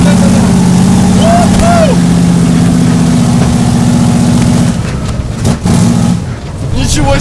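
A Zhiguli (Lada) stretched into a limousine revs its engine, a loud steady low drone that dips briefly near the end, while a voice exclaims over it.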